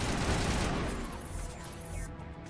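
Sustained gunfire rattles in Mass Effect on Eden Prime, a dense continuous barrage that is loudest at the start and eases slightly toward the end.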